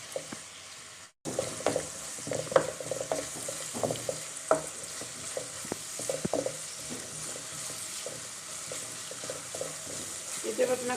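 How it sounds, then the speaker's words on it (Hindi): Onions sauté in about a cup of hot oil for chicken karahi, giving a steady close sizzle broken by scattered crackles and spoon-stirring scrapes, with no talk over it. "अब हम अपने प्याज को सोते कर लेंगे थोड़ा सा हल्का सा"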